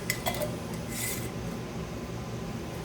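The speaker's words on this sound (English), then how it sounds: "I'm going to put my lid on" Lid being put on a sourdough starter jar: a few quick scraping, rubbing contacts up close, with a brighter clink or rasp near the middle, then quiet handling noise.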